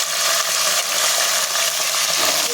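Green chillies and onions frying in a pan, a steady, dense sizzle and crackle held close and loud throughout, with no voices.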